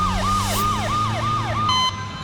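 An ambulance siren wails in a repeating rising-and-falling pattern, loud and close over a steady low engine drone, about five cycles before it cuts off abruptly near the end.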